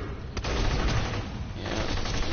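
Rapid bursts of gunfire from an enemy's shotgun in a shooter video game, dense and continuous at moderate loudness, with a sharp crack near the start and sustained rattling fire throughout.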